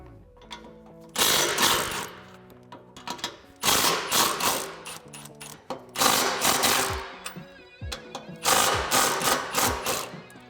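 A ratchet with a 15mm socket works loose the exhaust clamp nuts on a 2015-2019 Ford Mustang, giving four loud, rapid rattling bursts of mechanical clicking separated by short quieter gaps, close up.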